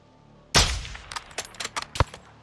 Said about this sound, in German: Verdammt guter Schuss.